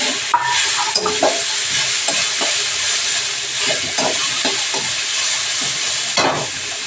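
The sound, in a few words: chickpeas frying with spices in oil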